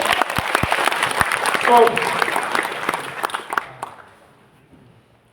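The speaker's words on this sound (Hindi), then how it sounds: "एक बार हमारी कंपनी और प्रोडक्ट्स के लिए जोरदार ताली होना चाहिए।" A conference audience at a company motivational-speech event in Guwahati applauds loudly in a dense, steady burst that fades away over the last second or so. A voice talks over the clapping.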